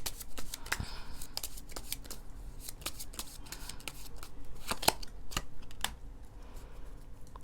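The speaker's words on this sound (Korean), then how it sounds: "1번 분들 조언 카드 뽑아볼게요." Tarot cards shuffled and drawn at a reading table: crisp, close flicks and sharp slaps of card stock in irregular bursts, with small taps as cards are laid down, no talking.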